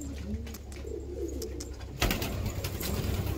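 Japanese mango breed pigeons, including a male, coo softly in low, rolling phrases over a noisy background. A sudden rustling burst comes partway through.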